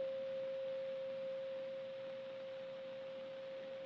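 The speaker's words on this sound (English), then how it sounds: "You can also hear it on a loudspeaker we've hooked up because we're chopping the microwaves" Microwaves chopped 1,000 times a second and played through a loudspeaker in a 1961 physics demonstration, giving a steady, pure continuous tone that fades slightly, heard alone.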